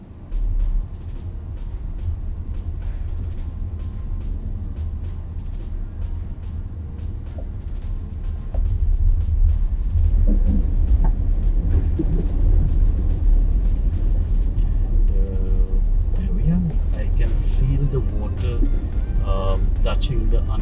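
Tata Nexon EV electric SUV driving through 300 mm of standing water, a steady low rumble of wheels and water that grows louder midway, with scattered splashes and thuds near the end.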